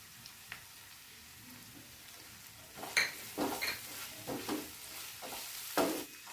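Spices being stirred in a pan for mushroom masala, a spoon scraping and knocking the pan in several close, moderately loud strokes during the second half, over a faint low sizzle.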